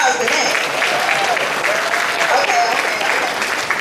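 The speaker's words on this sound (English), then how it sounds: "I think that deserves a better round of applause than that." Sustained applause from a banquet audience honoring middle school honor students, a dense, steady clapping that fills the room with a faint voice or two underneath.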